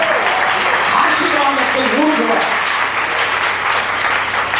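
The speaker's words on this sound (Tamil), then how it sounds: "விசுவாசிக்கிறவர்கள் கைதட்டுங்கள்." A church wedding congregation in Thane, Maharashtra breaks into loud, sustained applause. A preacher's voice carries over the clapping through the whole stretch.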